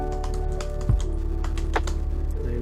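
Fingers tap quickly on a computer keyboard during a study stream, a close run of light clicks with one louder thunk, no speech over it.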